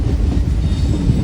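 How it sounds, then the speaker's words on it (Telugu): Pamani Express passenger train running on rails near Chittoor cabin on the Tirupati to Arunachalam route, a loud, steady, close rumble of wheels and carriages with no voices. "మళ్ళీ అయితే స్టార్ట్ అవుతుంది ట్రైన్ కూడా. ట్రైన్ వచ్చేసి బ్యూటిఫుల్ కర్వ్ అయితే కొడుతుంది."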